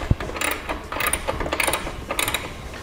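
A ratchet wrench loosens a 1/2-inch nut on the back side of a Harley CVO tail light assembly, giving a close, quick run of crisp clicks with a few sharper mechanical knocks.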